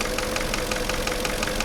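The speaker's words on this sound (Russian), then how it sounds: "Наблюдаем характерный стук двигателя автомобиля Porsche Cayenne." Porsche Cayenne engine idling with a characteristic knock from a piston-group fault and damaged cylinder walls, a rapid, regular metallic tapping repeating over the steady engine hum, close up with no talk.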